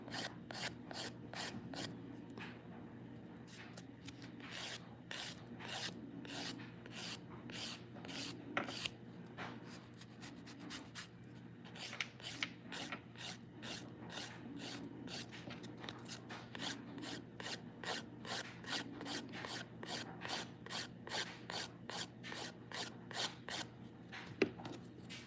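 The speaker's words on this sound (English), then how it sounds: "Now this is preliminary filing." Dip powder nail being filed for preliminary shaping to reveal glitter: a steady run of quick, dry rasping strokes, close and even-paced, continuing without pause and with no talking.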